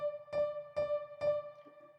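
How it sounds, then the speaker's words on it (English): Synth piano with a Serum chorus effect plays three evenly spaced notes, each a soft attack over a sustained tone, quiet and alone. "we're going to have, again, serum effects, and we're going to add a simple chorus"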